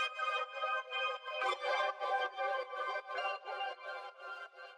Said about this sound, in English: the last element we're going to add to the melody is actually just going to be a cool little phrase I found in Arcade